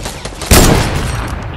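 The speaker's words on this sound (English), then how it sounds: "Baby Scrubs sniped me" A single sharp sniper rifle shot in a Fortnite match, a loud burst with a fast-decaying tail and no talking.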